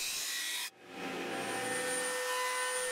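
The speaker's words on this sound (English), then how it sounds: "it was time for the fun part of flushing them all up on the disc sander" A disc sander runs with a steady whir while a wooden bandsaw box is flushed up against it. Grinding noise cuts out sharply, then the motor hum continues with a faint high whine.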